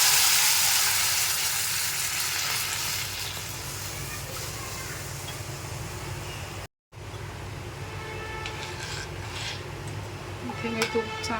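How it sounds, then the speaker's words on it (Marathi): Ghee heating for a tempering in a pan gives a steady broadband sizzle for several seconds, then after a brief cut a quieter frying hiss with scattered light clinks of a utensil against the pan. "याला छानशी आपण फोडणी देऊया. इथे मी तूप घेतलेलं आहे थोडंसं"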